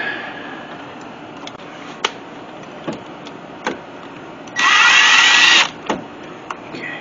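A power drill whirs for about a second while driving the bolt onto a battery terminal of a 2011 Nissan Cube, preceded by scattered small clicks and taps of tool handling nearby.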